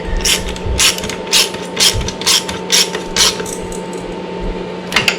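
A ratchet wrench tightens a 13 mm bolt on a race motorcycle during race prep, giving about eight close, loud bursts of quick pawl clicks in an even rhythm over a steady background hum.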